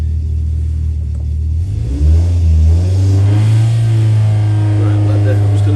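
A loud 1150 race engine drones steadily on a dyno, its pitch climbing partway through and then holding at a higher, even pitch.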